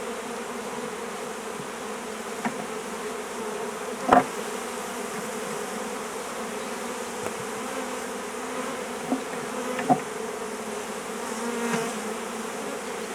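Honey bees buzz around an open hive while brood is placed in a new hive, a steady soft hum of many wings with a few louder close passes and brief taps.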